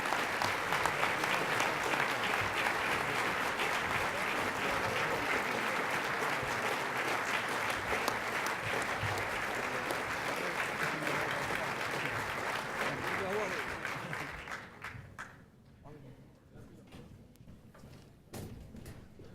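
A banquet crowd gives Senator Max Baucus a warm, dense round of applause that carries on strongly, then thins out into scattered claps and fades near the end.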